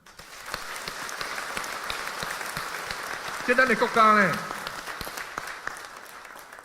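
Lecture audience applauds, a steady patter of many hands clapping at moderate loudness, with a voice briefly speaking over it partway through.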